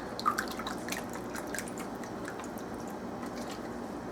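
Broth pours over a rubbed pork shoulder in a crock pot, sounding as a close, soft trickle with scattered drips and a small splash at the very end.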